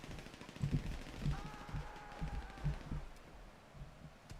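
Gunfire in a zombie video game sounds as a string of quick, muffled shots, moderately loud under a busy game mix.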